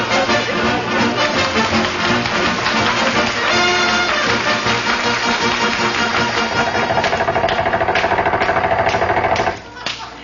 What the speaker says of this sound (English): If she won't, Mrs. McGee, we'll have to use air hammers and chop him loose.